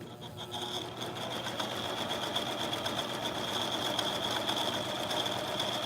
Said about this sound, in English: So I have it over here with my sewing machine.